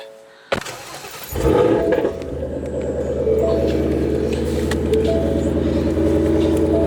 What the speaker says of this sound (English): I'm gonna go ahead and take a drive in the Whipple Mustang